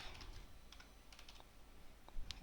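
Keys clattering on a computer keyboard, quiet irregular taps and clicks in short clusters, faint and close, with no voice over them.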